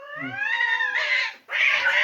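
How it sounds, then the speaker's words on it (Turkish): Cats fighting in a neighbourhood street, giving loud drawn-out caterwauls: one long rising yowl, then a short break before a second harsh wail. "Kedilerin mahalle kavgası."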